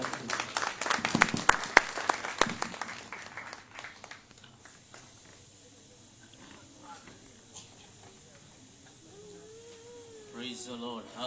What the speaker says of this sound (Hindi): परमेश्वर के दास का तालियों के साथ स्वागत करते हुए